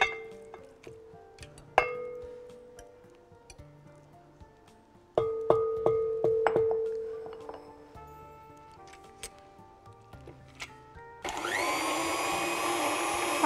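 A stand mixer starts beating room-temperature cream cheese for a baked chocolate cheesecake. Scattered clinks and taps of a bowl and utensils come first, then the motor kicks in with a loud, steady whirring drone for the last couple of seconds.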